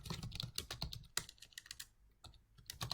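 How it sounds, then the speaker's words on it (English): Quick bursts of typing on a computer keyboard, light close key clicks in uneven runs with short pauses between them, quiet and with no voices. "I can come into the comment section and type in my updates"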